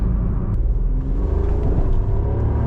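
A Maruti Suzuki WagonR CNG hatchback on the move, heard from inside as a steady, loud low engine and road rumble with a faint rising whir, no talking.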